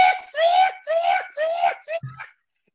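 A voice imitates the bellowing screech of a roughly 600-pound sow, rendered as several loud, drawn-out squealing cries in quick succession, ending on a short low grunt.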